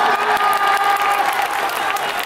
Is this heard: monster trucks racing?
no